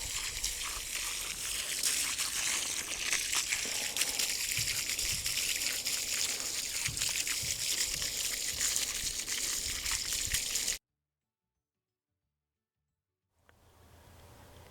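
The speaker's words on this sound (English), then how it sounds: "Hose off the soil from around the roots." Garden hose water washing soil off canna lily roots, a steady broadband gush and trickle running continuously for about eleven seconds before cutting out abruptly, then faint low background afterward.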